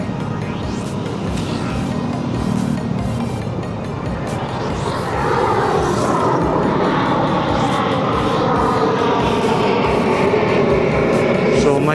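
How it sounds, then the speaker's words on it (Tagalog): A passing airplane roars loudly during a motorcycle ride through city traffic and grows stronger toward the end, mixed with the rush of wind and road noise, as if heard from a moving motorcycle. "So may dumaan na eroplano"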